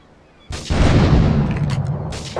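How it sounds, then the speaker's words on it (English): Gunfire and explosions at a harbor in Grand Theft Auto III: a loud blast erupts after a quiet start, followed by a sustained roar of booming fire with further bursts, up close and without voices. "investigate reports of gunfire and explosions."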